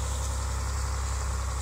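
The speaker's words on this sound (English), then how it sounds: "You can't hear me over the engine." A 4020 tractor engine pulling a chisel plow drones steadily and loudly at close range, a constant low rumble with no breaks and no voices.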